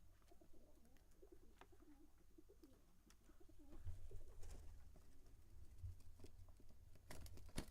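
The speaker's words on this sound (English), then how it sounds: "Can you guys hear these birds?" Pigeons coo softly in the background, low faint murmuring calls under a quiet room hum, with occasional light clicks and taps nearby.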